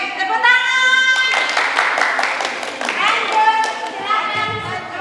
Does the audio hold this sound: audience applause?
yes